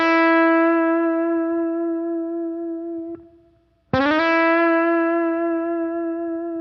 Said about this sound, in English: we can practice sliding into the note